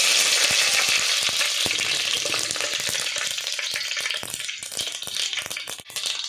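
Mustard seeds and curry leaves frying in two ladles of hot oil, a loud dense crackle with rapid popping and spattering that eases slightly toward the end.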